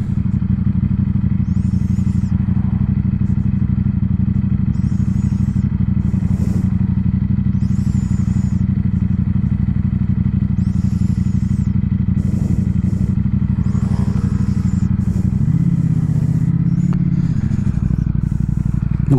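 A Ducati Streetfighter V4S with its 1100 cc V4 engine holds a loud, steady idle-like drone throughout, close by, with a rise in rumble near the end and a rider's helmet-muffled presence.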